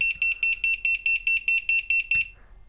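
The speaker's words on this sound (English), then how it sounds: "That is ridiculously loud, but that's exactly what I want in a lost model buzzer." A ViFly Finder lost-model buzzer, tested indoors, blares a very loud, piercing beep pulsing about ten times in quick regular rhythm before cutting off abruptly.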